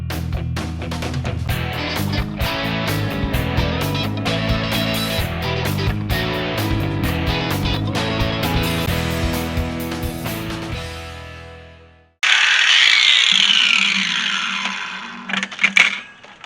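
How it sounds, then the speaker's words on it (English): An angle grinder cuts metal grills for a nest box, with a loud, close motor whine and then a harsh, hissing cutting screech that tails off in short bursts. "I'm using a grinder"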